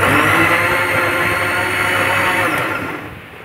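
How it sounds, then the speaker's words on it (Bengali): A mixer grinder blends watermelon with sugar, giving a loud, steady motor whir that holds and then winds down near the end, with no voices. "এটা আমি এবার মিক্সিতে ঘুরিয়ে নেব।"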